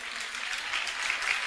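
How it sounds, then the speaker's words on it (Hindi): A crowd at a Hindi comedy poetry recital claps in a brief, dense burst of applause, steady and fairly close, with no voices over it. "ताली घनघोर आनी चाहिए"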